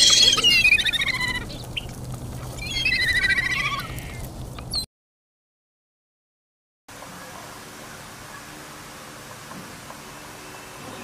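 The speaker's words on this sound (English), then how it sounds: "Cormorant." A cormorant calling, with harsh, nasal, bleating croaks in two short bouts up close over a noisy background, followed by a silent gap and faint hiss.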